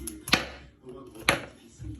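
A knife cuts into the base of a potimarron squash on a board, two crisp chopping knocks about a second apart, close and fairly loud.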